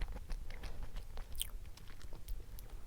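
Someone chewing a crunchy new convenience-store snack close up, soft crunching bites in an irregular run over a quiet background, with no talking.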